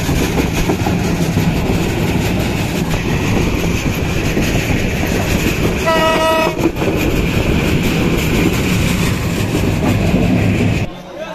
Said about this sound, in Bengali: সিরাজগঞ্জ উল্লাপাড়া থেকে লালমনি এক্সপ্রেস আর অল্প কিছুক্ষণের মধ্যেই বঙ্গবন্ধু সেতুতে প্রবেশ করবে